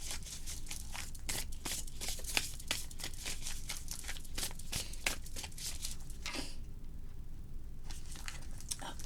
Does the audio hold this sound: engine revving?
no